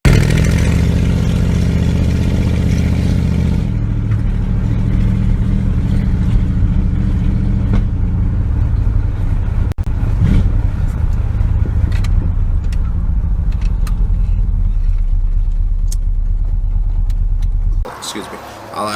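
A 1989 Dodge Dakota with a swapped 5.9 Magnum V8 runs warm on a very loud exhaust, a steady deep rumble with small throttle blips that carries on close up and cuts off near the end.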